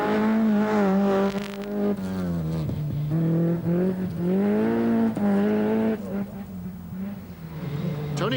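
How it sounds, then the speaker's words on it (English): A rear-wheel drive Peugeot rally car racing at the 1991 Lurgan Park Rally, its loud engine note rising and falling through repeated revs and gear changes as it drives close by. "Another Lurgan regular, George Elliott, his rear-wheel drive Peugeot will be another in the entertainments committee."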